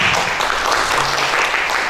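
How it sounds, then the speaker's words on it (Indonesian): A roomful of people claps at a regional work meeting, producing a brief, dense burst of applause that holds steady and fairly loud throughout. "Tepuk tangan."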